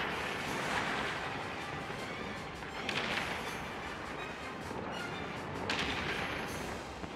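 Explosions and heavy booms from the co-op shooter game Sniper Elite 5 roll through in a dense, rumbling blast with several sharp bursts, moderately loud and with no voices over them.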